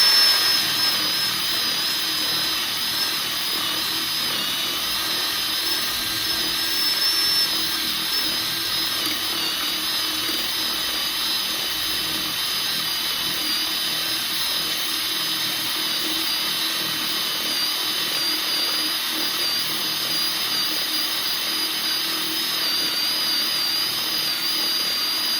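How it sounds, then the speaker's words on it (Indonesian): A Gtools GT12P cordless drill driver set to speed 2 bores through a workpiece with a 25 mm spade bit, a steady high-pitched motor whine that runs close and continuously for the whole span without speech. "Lanjut mata bor kipas ukuran 1 inch atau 25 mili, selektornya masih di speed 2."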